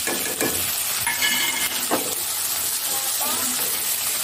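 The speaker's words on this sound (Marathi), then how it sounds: "ह्या भाज्या आपल्याला अर्धा मिनिट फक्त तेलात छान परतवून घ्यायच्या आहे।" Tomatoes and other vegetables sautéing in oil for Indian-style masala pasta give a steady, close sizzle, with a few clattering stir strokes scraping through the pan.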